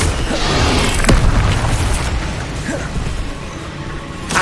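In the Hogwarts Legacy video game, the Incendio fire spell is cast with a heavy booming burst and a sharp crack, followed by rumbling, clattering game effects that gradually settle.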